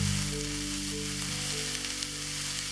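Sliced capsicum fries lightly in a pan for a homemade chicken wrap, giving a steady close sizzle that runs unbroken and fairly loud with no voices.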